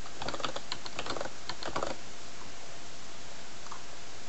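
Keyboard typing while filling in an entry during macro recording in a spreadsheet, a quick run of close, crisp clicks for about two seconds, then near silence with a faint stray tap.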